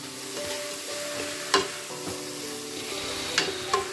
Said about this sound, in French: donc j'ai rajouté les carottes, les poireaux. Donc on mélange bien